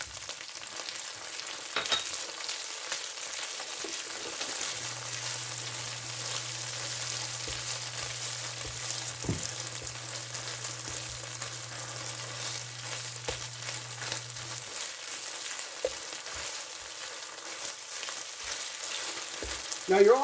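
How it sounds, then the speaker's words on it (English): Ketchup and mustard are stirred into a sizzling mixture in a frying pan, a steady close crackle of frying with soft scrapes of the spoon running through it. A low hum drones for a stretch in the middle. "Stir that in."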